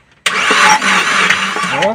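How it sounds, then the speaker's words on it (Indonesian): Starter test on an overheating Suzuki New Carry: a loud, steady mechanical cranking churn starts abruptly and runs continuously for nearly two seconds with slight pulsing, with a voice talking over it. "Kita starter ya, bukan dihidupin, starter aja dulu."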